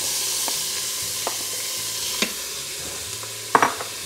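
Onions sauté in an Instant Pot with a steady, close sizzle, broken by a few soft scrapes and taps of a stirring spoon. The last tap is the loudest.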